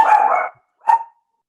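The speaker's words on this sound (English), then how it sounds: "Somebody's dog is on the loose." A dog barks twice nearby on a loose run, a longer bark followed by a short sharp one after a brief pause, loud and clear with no talking.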